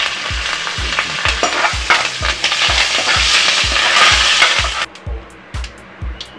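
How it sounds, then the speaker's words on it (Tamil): Cumin, asafoetida and curry leaves hit hot oil and sizzle loudly, with a spoon scraping and stirring in a steady rhythm of knocks before the frying hiss drops away near the end. "சீரகம், கொஞ்சமாக பெருங்காயத்தூள், இது கூடவே கருவேப்பிலையும் போட்டுக்கலாம்."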